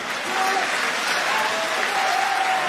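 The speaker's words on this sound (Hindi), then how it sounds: "जोरदार तालियां बजाओ सब मिलके" Dense, steady applause fills the hall from the audience at a Hindi kavi sammelan poetry recital, loud and sustained with no pause, after the poet urges everyone to clap harder together.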